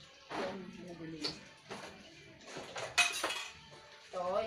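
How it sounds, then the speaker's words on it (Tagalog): A cooking pot is scrubbed and handled in a small dim kitchen, with repeated clanks and scraping clatters of metal cookware coming in uneven bursts close by, with some speech mixed in. "Ito, yung kaldero lang yung nililinis ko."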